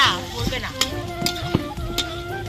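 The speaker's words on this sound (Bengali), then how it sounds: "এই যে বিনস ভাজছে পুড়ে পুড়ে যাচ্ছে" Beans sizzle and scorch in a pan while a spatula stirs them, giving sharp scraping knocks and clatter over a crackling hiss, close and loud.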